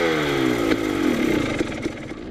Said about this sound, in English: Like a whirring? Yeah, like a rattling / like crinkling. Like there's a cable wrapped up